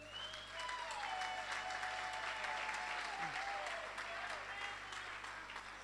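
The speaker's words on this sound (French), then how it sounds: "C'était un applaudissement un peu sympa, mais qui ne vaut pas la qualité du travail qu'ils ont fait" An audience at a church service applauds the worship team, a steady wash of many hands clapping for several seconds, with a faint voice over it.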